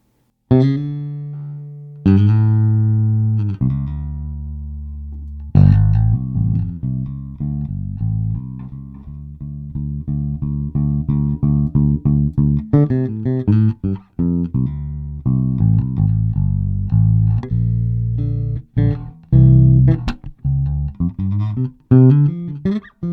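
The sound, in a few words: electric bass guitar playing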